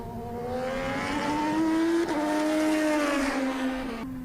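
IndyCar race car on fast laps at Sebring, a loud sustained engine howl rising in pitch through the run, then easing slightly toward the end, close and alone with no talk.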